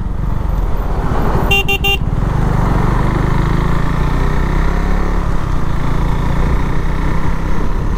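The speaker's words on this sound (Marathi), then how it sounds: "शेवटची ride, last ride for my Duke 390 rocket" A KTM Duke 390 motorcycle on its last ride, its engine droning loud and steady at close range with a continuous rumble, and a short horn blast near the start.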